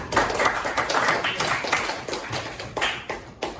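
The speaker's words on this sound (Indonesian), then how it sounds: "Tepuk tangan buat Nadia." A classroom full of students clapping for a classmate, a steady wash of dense overlapping claps lasting several seconds at moderate volume, with no voices standing out.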